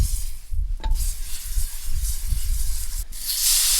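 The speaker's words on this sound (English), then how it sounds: "Set our frying pan on. Get some butter rolling on here." Butter sizzles and hisses in a frying pan set over a campfire at a high-elevation truck campsite, a steady close frying crackle with a brief scrape partway through.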